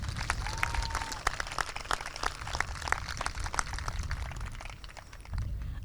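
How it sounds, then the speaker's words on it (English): A high school commencement audience applauds teachers and staff, scattered claps with some sharp, distinct hand strikes over a low rumble, fading toward the end. "Can I please get a round of applause for these groups of individuals?"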